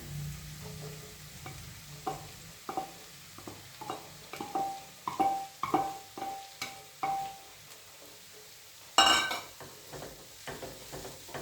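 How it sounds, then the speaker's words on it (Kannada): Moringa leaves sizzle in hot oil with golden-brown onions as a spoon stirs and scrapes the pan in a steady rhythm, with one louder clatter near the end. "ಈಗ ಈ ಆಯಿಲ್ ಇರೋವಾಗೇ ಮೊರಿಂಗಾ ಲೀವ್ಸ್ನ ಹಾಕ್ಕೊಳ್ಳೋಣ"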